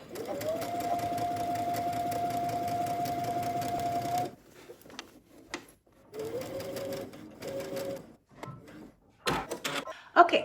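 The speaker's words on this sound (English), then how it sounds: "Now you want to head to your sewing machine and you want to go ahead and understitch as far as you possibly can on" A sewing machine runs steadily for about four seconds while understitching the lining of a dress bodice, then gives two shorter runs amid clicks and handling noises.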